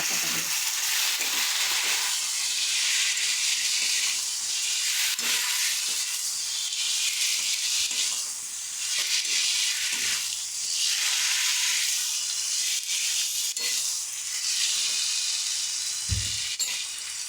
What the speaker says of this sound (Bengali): এরপর আমি ফুলকপি আর আলু ভালো করে কষিয়ে নেবো